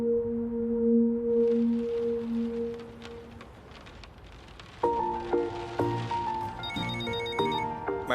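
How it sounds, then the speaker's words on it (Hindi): A telephone rings in a quiet indoor setting with a warbling electronic tone, first in steady bursts, then after a pause in a brighter, louder repeating pattern, with no talk. "मैडम, निक्सर का फोन आ रहा है।"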